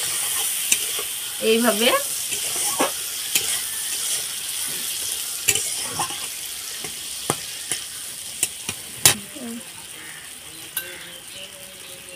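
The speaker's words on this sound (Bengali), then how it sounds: "দিয়ে পটলটাকে আমি একটু কষিয়ে নেব" Pointed gourd sautéing in a pan for posto sizzles steadily while a spatula scrapes and taps the pan in irregular strokes; a voice speaks briefly.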